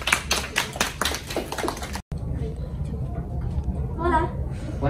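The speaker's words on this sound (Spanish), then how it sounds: "Muy bien, aplausos." A classroom of students claps for a Spanish skit, with rapid, uneven handclaps for about two seconds, then a quieter stretch of room noise and talk.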